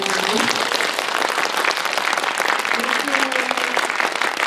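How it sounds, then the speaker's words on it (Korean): An audience at a guest-visit screening of the film Harbin, with Hyun Bin and director Woo Min-ho, gives loud, sustained applause, a thick, continuous roar of clapping with brief tonal voices poking through. "박수 한번 보내주세요"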